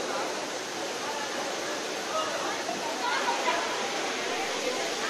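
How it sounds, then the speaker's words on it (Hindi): Mountain water cascading down like a waterfall at Neelkanth near Rishikesh, Uttarakhand, where people bathe; a steady broadband rushing roar with faint crowd chatter mixed in. "फ्रेंड्स ये पानी झरने की तरह बह रहा है, पहाड़ से ही आ रहा है शायद।"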